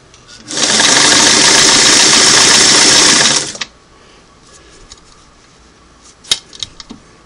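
A Singer Model 338 sewing machine runs a single-needle zigzag stitch in one loud, steady burst of about three seconds, then stops, leaving faint handling clicks near the end.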